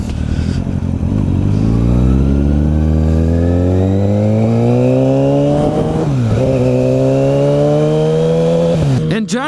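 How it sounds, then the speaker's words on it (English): A 2009 Kawasaki Ninja ZX-6R sport bike that has been down on the pavement revs hard close by, its engine pitch climbing smoothly through the gears, then dipping and rising again at a shift before cutting off, all loud and without talk. "So we're just going to take this ZX-6R out on a quick loop."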